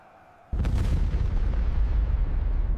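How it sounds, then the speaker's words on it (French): Quiet low rumble, then a sudden heavy boom of cannon fire bombarding stone masonry that rolls on with sustained thundering blasts and echoing reverberation. "Les canons bombardent inlassablement la maçonnerie de pierre."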